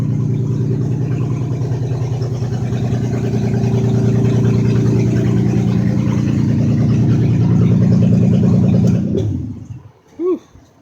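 The replacement engine in a 2008 Hyundai Santa Fe idles steadily and loudly while burning off coolant, with steam coming from the tailpipe. The engine then cuts out near the end, leaving quiet and one brief thud.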